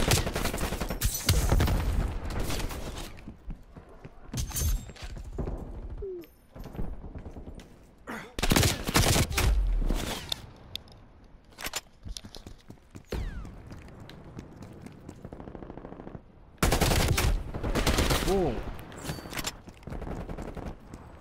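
Gunfire in Call of Duty Black Ops Cold War multiplayer, with several loud, dense bursts of automatic fire separated by quieter gaps.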